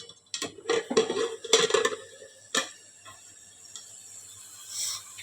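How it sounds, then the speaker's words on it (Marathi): Metal clinks and clatters as a lid is lifted off a cooking pot of simmering masala, a few sharp taps and scrapes close by, then a quieter hiss afterward. "आपण झाकण उघडून बघूयात"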